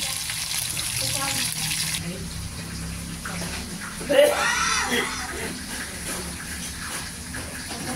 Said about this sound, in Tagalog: Yan po, malasugi. Piniprito natin.